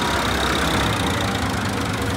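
Green tractors drive out of a factory, their engines making a loud, continuous diesel rumble with a steady knocking texture, close by and unbroken.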